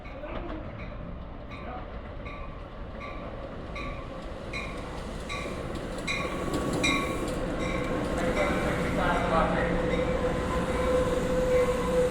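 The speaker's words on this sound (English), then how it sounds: "just to see the trains passing by underneath" A train passes beneath a bridge with a steady, building roar, rattling wheels and a faint metallic squeal toward the end.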